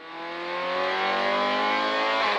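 Onboard a rally car on special stage OS6 Radkowska Perła of the Radków Rally, the engine revs up hard and steadily, rising pitch under load, loud and close for the whole stretch with no talk.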